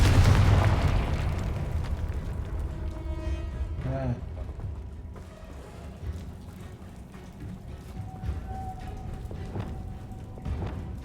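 A Confringo spell explodes in the Hogwarts Legacy video game: a loud fiery blast opens and slowly decays into a crackling, rain-like hiss. Quieter pops and bursts follow.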